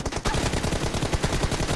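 Rapid gunfire in the mobile battle royale game BGMI, a quick run of loud, evenly spaced shots filling the short moment.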